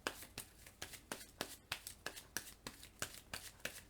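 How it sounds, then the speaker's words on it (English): Playing cards shuffled by hand during a Marvel Legendary deck-building game, a quick run of about a dozen crisp riffling snaps at a steady rhythm, close and fairly quiet with no talk over them. "So let me shuffle."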